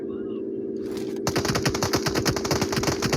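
Automatic gunfire in the mobile battle royale game PUBG Mobile, a fast steady stream of close shots starting suddenly after a quieter hum, loud and continuous without talk.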